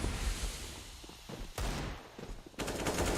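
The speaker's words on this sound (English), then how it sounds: "Out the window, the flashbangs go." Quick popping bursts and bangs from a Counter-Strike match on the Mirage map as flashbangs are thrown, brief sharp impacts over a muffled game background.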